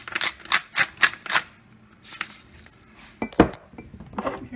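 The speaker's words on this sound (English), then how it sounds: "Cracked fresh pepper, lots." A pepper grinder cracks fresh pepper in quick bursts of dry, gritty grinding, first a rapid run of five twists, then sparser turns, close and fairly loud.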